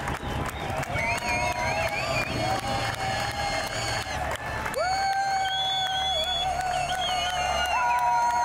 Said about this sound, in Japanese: 通りの奥から、大きな歓声が聞こえてきました